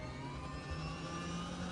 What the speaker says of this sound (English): It's the engine.